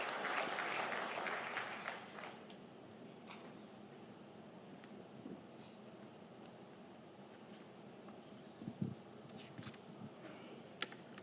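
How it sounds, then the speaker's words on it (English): An audience claps at a senior officials' performance contract signing ceremony in Zimbabwe, with a dense burst of applause that tapers off after a couple of seconds into scattered claps, camera clicks and light room noise. "Let's give him a big round of applause"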